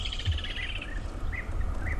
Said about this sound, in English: take a moment to listen to all the birds rejoicing as a lot of insects will emerge only after rains